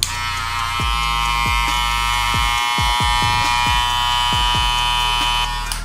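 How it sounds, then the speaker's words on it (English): Electric hair clippers buzz loudly and steadily at close range, a continuous high-pitched whine with low thumps at irregular intervals. "So we're going to do a few of my clippers."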